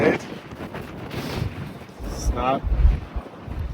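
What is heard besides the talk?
strong wind outdoors buffeting the microphone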